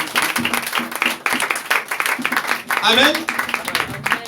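Church congregation clapping and cheering in praise of the Lord, dense rhythmic applause mixed with voices and shouts, lively and close throughout.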